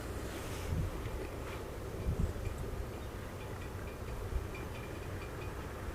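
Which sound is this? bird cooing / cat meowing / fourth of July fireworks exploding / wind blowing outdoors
wind blowing outdoors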